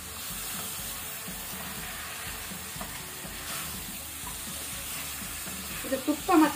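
Mutton masala fries on high heat in ghee with onions, a continuous close sizzle and hiss with soft stirring scrapes, a few louder spatters toward the end.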